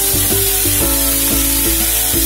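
French beans added to a hot pan that already holds garlic, producing a loud continuous sizzle close up with regular scraping stirs, no voices.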